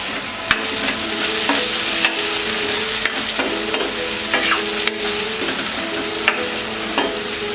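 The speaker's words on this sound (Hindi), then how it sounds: "अनियन सॉफ्ट होने के बाद हम डालेंगे ये टमाटर, मिक्स कर देते हैं" Tomatoes are stirred into onions frying in a pan: a steady close sizzle, broken by repeated scraping spoon strokes about once a second, with soft tonal background sounds and no talk.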